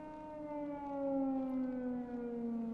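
Siren Head's drawn-out siren wail in a horror video game, a loud, steady, layered mechanical tone that slowly sags in pitch, sounding close and alone without any talk.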